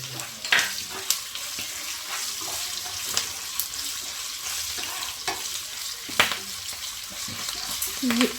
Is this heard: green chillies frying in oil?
yes